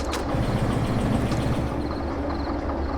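Freight cars in the Derail Valley train simulator roll slowly after the handbrake is released, a steady low rumble of wheels and running gear with faint squeaks, heard alone.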